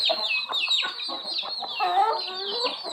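A group of young farm-bred chickens clucks and chirps close by, their busy, overlapping calls running without a break and no voices among them.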